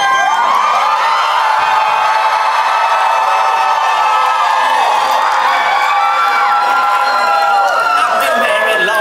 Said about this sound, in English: They cheered loud for you, Skip.